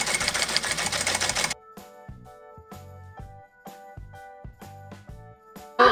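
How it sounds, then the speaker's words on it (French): A sewing machine topstitches a coat while its clasp is replaced: after a brief burst of loud fabric and motor noise, the machine runs in short, stop-start stitching runs with quiet gaps, close by and alone. "je viens faire ma surpiqûre sur le dessus"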